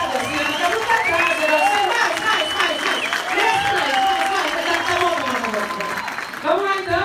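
An audience at the Epicentro Gramado 2017 event applauds steadily throughout, with voices, cheering and a few whistle-like tones carrying over the dense clapping.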